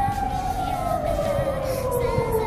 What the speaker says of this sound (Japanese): すげえ、救急車？ 消防車？